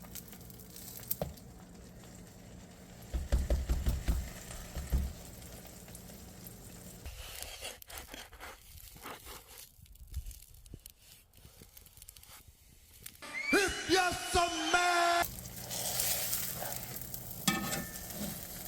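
A quesadilla frying in hot ghee in a pan gives a steady sizzle, with louder crackling bursts and scraping clatter as it is handled and flipped.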